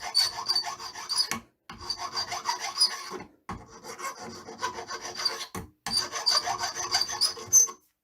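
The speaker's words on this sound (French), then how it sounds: "Je vais prendre une lime plate, ici, et pendant qu'il est dans l'étau, je vais un peu, bah, le limer pour que ce soit un peu plus droit." Flat file rasping back and forth on a cut nail clamped in a vise, in three long bursts of steady scraping strokes separated by brief pauses, close and fairly loud.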